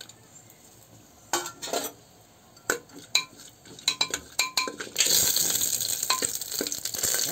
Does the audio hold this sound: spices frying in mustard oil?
yes